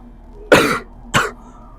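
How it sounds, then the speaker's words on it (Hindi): Two harsh coughs close to the listener, the first longer and stronger, the second shorter, with quiet between them. "यार तबीयत खराब है, खांसी आ रही है।"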